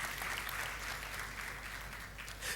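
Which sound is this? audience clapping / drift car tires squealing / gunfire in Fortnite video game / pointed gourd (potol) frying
audience clapping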